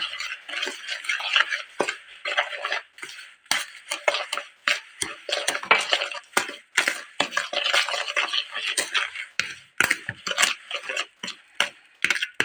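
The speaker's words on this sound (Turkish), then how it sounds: "Şekerle yumurtalarımı şöyle güzelce karıştıralım." Eggs and sugar being hand-mixed in a bowl make quick, rhythmic clicking and tapping strokes that repeat steadily up close, with brief pauses between bursts.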